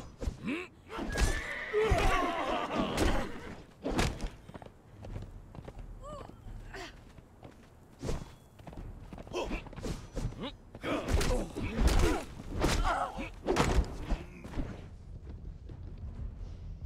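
Horse neighing and whinnying with hoof thuds in the video game Conan Exiles, heard in bursts of combat-like thumps, with a voice talking over parts of it.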